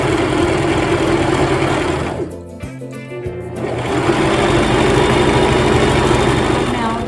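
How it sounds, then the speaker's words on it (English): Sewing machine stitching the armholes of a dress, running in a loud, steady close whir. It slows and briefly pauses around the middle with a few rhythmic clunks, then picks back up to full speed. "I'm just going to sew."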